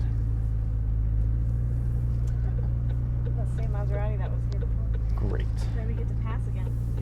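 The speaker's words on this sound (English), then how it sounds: "we're just gonna get on the road and drive for a little bit, a few minutes, let you guys hear the car" A McLaren 570S Spider drives on the road with a steady low engine and road rumble heard from inside the cabin, while people talk over it.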